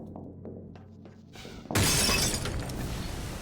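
Glass shatters loudly and suddenly in Half-Life 2: Episode 1, a sharp crash followed by a bright tinkling spray of falling shards, after a few quieter in-game knocks and footsteps.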